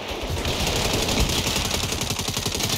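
A mounted cannon in Saints Row fires in a steady, fast stream of shots that blend with ongoing gunfire in a loud, busy battle.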